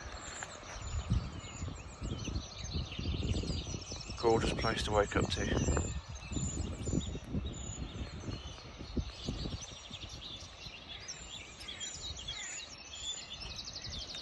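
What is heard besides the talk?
many birds singing at dawn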